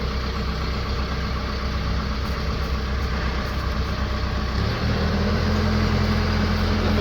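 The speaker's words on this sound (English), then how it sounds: "you can hear the tractor's running a tick over" A Branson F Series tractor engine idles at tick-over, a steady close rumble with a slight rise in pitch and loudness near the end, no voices.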